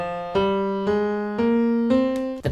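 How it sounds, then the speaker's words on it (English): A natural minor scale climbs on a keyboard, five distinct notes struck one after another at an even pace, each ringing with a bright, sustained tone, close and clear with no voices. "the most common minor pattern, which is the natural minor scale, and it sounds like this"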